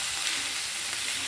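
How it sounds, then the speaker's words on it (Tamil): Radish leaves stir fry sizzling in a pan, a steady close hiss of frying with faint stirring and no distinct strokes, continuous for a brief moment. "ஒரு வாட்டி கலந்து விட்டுலாம்."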